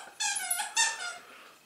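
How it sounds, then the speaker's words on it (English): A dog squeezes a squeaky teddy toy, giving a few quick high-pitched squeaks in close succession, fairly close and clear with no talking. "You may hear some squeaking in a minute."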